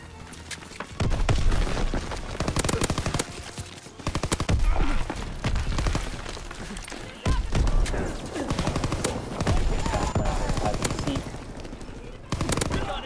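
Rapid automatic gunfire and bursts of explosions from the Call of Duty WWII video game, dense and loud with brief pauses, as a voice talks over the action.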